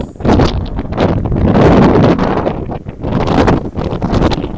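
Strong wind buffeting the microphone on a windy morning walk through Regina, a loud roaring rumble that swells and eases in gusts, with faint rustling underneath and no speech.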